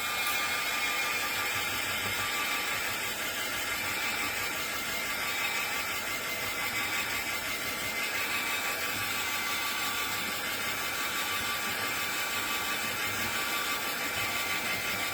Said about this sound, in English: I am going to hit it with the heat tool if it's still plugged in.